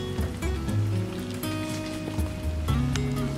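Water drips and patters from wind-shaken trees over a spring-fed pond at Oshino Hakkai in Yamanashi: a steady, fairly loud wash of falling drops with some low tonal sound running beneath.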